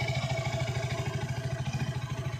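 A Musstang ST 200 motorcycle engine idles after running for about ten minutes, a steady, rapid, close thumping putter with a mechanical clatter layered on top.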